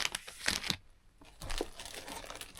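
Plastic bags holding craft kit pieces for a Magic Forest house DIY kit crinkle and crunch in bursts near the mic, with a brief quiet gap midway.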